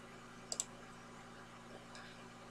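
A computer mouse clicked while working in photo editing software, a quick double click followed by a fainter single click later, close and crisp against a quiet hum.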